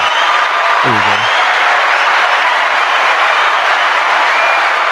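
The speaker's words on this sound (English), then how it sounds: "Hold on, let me find this applause." Applause played as a sound effect on a podcast, a loud, dense wash of crowd clapping and cheering that fills the whole stretch. A short low vocal sound cuts in near the start.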